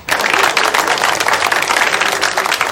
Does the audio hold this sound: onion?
no